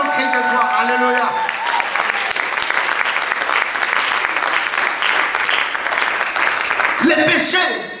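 Church congregation applauding and cheering for God during a French-language sermon, with dense sustained clapping and shouts filling the room, a few voices rising over the crowd near the end.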